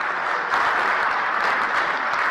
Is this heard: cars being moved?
no